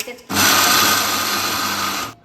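A mixer grinder coarsely crushes roasted peanuts for peanut sukhdi, a loud steady whirring burst that starts abruptly, runs for almost two seconds and then cuts off.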